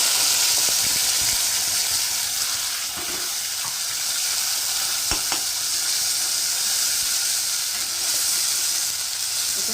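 A ground paste of onion, ginger, garlic, tomato and coriander leaves sizzles loudly and steadily in a hot pan for a chicken curry, with a few faint clinks of stirring and no voices.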